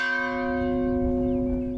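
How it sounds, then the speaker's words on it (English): A single church bell in the Spanish village of Alcuto tolls once, its clear ringing tone sustaining and slowly fading over low background rumble, with no voices. "The church bell in the village of Alcuto tolls to mark another death."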